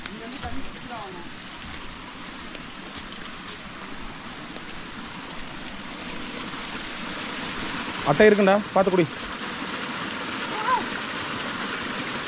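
A small stream runs across a mountain trekking trail near Munnar, a steady rushing trickle of water heard close by throughout, with voices briefly talking over it partway through.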